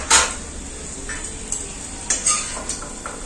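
Salt-and-turmeric-fried paneer being lifted out of a pan, a sharp metallic clink of a utensil against the pan followed by lighter scraping taps and clatter.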